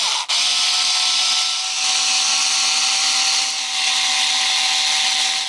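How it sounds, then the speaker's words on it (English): A steady whirring power-driver drone runs continuously while plastic shock absorbers are unscrewed from an RC car, loud and close with a faint tonal whine throughout. "Let's undo these shock absorbers."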